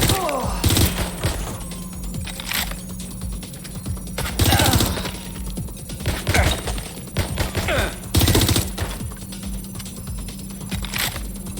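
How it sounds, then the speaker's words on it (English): Gunfire in the video game Watch Dogs: Legion, with sharp bursts of shots at irregular intervals over a steady humming background. "They shot them!"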